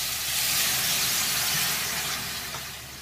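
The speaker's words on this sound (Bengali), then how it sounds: "এবার এই চালতাগুলো দিয়ে দিচ্ছি, একটু নেড়ে নিই।" Elephant apple (chalta) pieces frying in hot mustard oil with mustard seeds, a steady loud sizzle and hiss that runs throughout, easing slightly toward the end.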